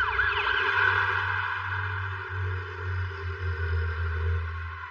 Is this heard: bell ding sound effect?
no